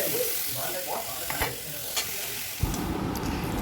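Chopped chili and tomato with salt and sugar being stirred in a pan: a steady soft sizzle with occasional spatula scrapes and knocks, close and quiet, with no talking.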